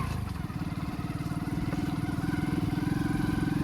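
A Hero Splendor motorcycle carrying three riders putters off-road along a village back lane, its engine a steady, fast, rhythmic thudding at moderate level that holds constant with faint rattle throughout.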